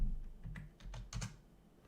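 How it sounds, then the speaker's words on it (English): Quiet, close computer keyboard typing during a live stock trading session: a handful of irregular soft key clicks, some in quick pairs, over faint low room hum. "I'm going to break this freaking keyboard."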